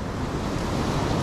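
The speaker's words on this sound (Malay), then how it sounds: "Rupanya ombak pun boleh tahan." Ocean waves surge and wash steadily onto a beach during a rising morning tide, a continuous close roar of surf with wind rumbling across the microphone and no talking.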